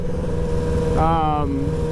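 A stock Yamaha sport motorcycle engine rumbles steadily, then briefly revs up with a rising, throaty whine before settling back to a low idle.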